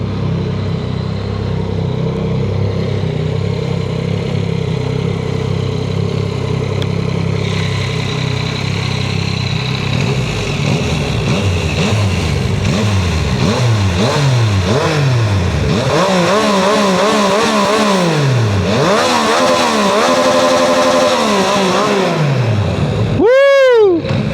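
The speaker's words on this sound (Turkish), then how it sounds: "Şurada bir egzoz sesi dinletirim ben size şimdi." A loud Yamaha MT-09 motorcycle engine idles steadily, then revs up and down repeatedly in rising and falling sweeps, ending with a sharp high rev.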